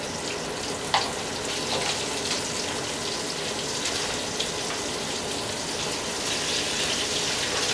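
Zucchini hits a hot pan and sizzles steadily, a continuous close frying hiss with a few small pops and stirring scrapes.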